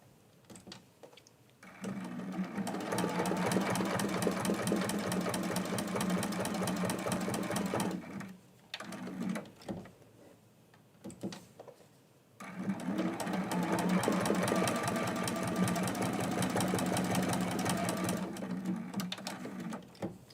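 A sewing machine stitches through fusible Heat and Bond while quilting a block, running in two long, steady bursts of rapid mechanical chatter separated by a brief pause, close and loud.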